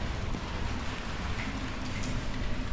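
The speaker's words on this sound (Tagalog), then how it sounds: "ngayon naulan na" Steady rain falling outdoors during a rainy spell with thunder around, a dense continuous patter close by with no voices.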